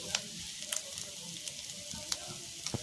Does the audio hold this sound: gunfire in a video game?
no